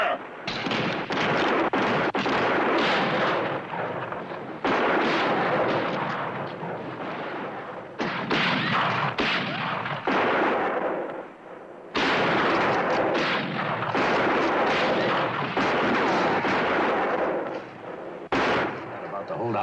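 Rapid gunfire crackles through a Western shootout, dense bursts of close shots with brief pauses, loud and sustained, with shouting voices mixed in.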